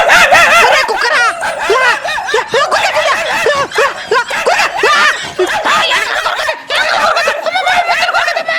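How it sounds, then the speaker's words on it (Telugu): Ducks quack and chatter loudly and continuously at close range, a dense overlapping flock with no clear dog barks standing out. "ఏందండి బాతుల దగ్గర కుక్కలు అరిచే సౌండ్ వస్తున్నదే?"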